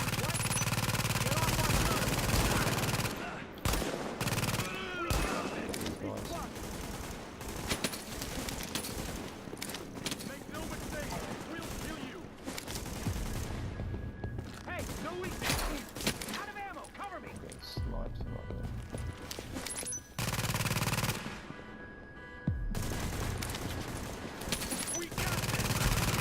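Rapid bursts of auto cannon fire from Tom Clancy's The Division on PS4, loud and sustained with dense overlapping shots and short pauses over about twenty-five seconds, mixed with in-game combat noise and a player talking.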